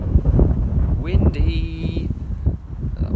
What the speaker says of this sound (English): apologies if like it's really windy on the mic and you can't hear me very well